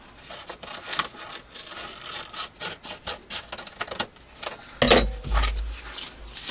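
Paper being trimmed for a handmade junk journal, with scraping, rubbing strokes and a louder cluster of handling noise near the end, close and alone.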